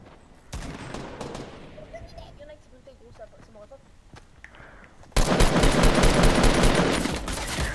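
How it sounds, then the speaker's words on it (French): Gunfire in the video game Fortnite: a short burst near the start, then a long, loud, sustained rattle of automatic fire at the end, with people talking under the shooting. "C'est qui c'est qui tire là?"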